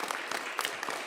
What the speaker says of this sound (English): Please join me in giving a round of applause to our amazing,